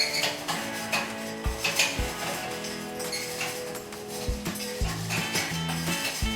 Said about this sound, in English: And I'm going to continue to stir.